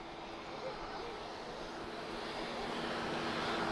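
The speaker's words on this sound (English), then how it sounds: "just about to touch down, guys. A320-214 from Air France, from Paris Charles de Gaulle" An Air France Airbus A320-214 touches down at Lisbon Airport, its engines giving a steady broad roar that swells slightly, mixed with wind rush heard from a distance outdoors.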